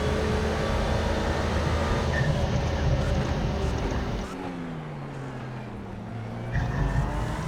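Ferrari 488 GT3 race car in iRacing at Spa, its engine droning steadily with shifting pitch that drops and sweeps as the car passes and fades, loud and continuous without speech.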